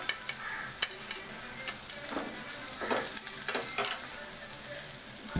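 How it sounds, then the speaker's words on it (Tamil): Peeled garlic cloves and cinnamon fry in a pan with a steady sizzle while a spoon stirs them, adding repeated scraping strokes. The sound is close and continuous, with no talking. "இப்போ நல்லா கிளறி விடுங்க. நல்லா வதங்கி வரட்டும்."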